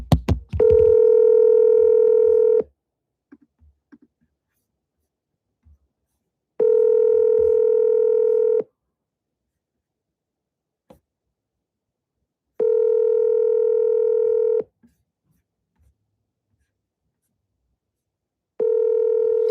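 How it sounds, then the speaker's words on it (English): Telephone ringback on an outgoing call, four evenly spaced two-second tones separated by silent pauses, clear and close with nothing else heard. "the phone is ringing"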